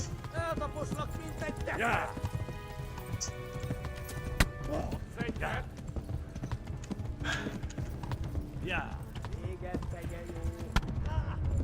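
Rhythmic clip-clop of a horse's hooves at a steady pace in the video game Kingdom Come: Deliverance, running under continuous game music and ambience, with someone talking intermittently over it.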